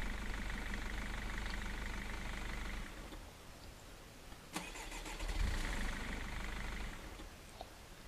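A car engine idles and then pulls away, a low steady hum that eases off partway through, with a sharp click and a brief surge later on. It is fairly faint and no one speaks.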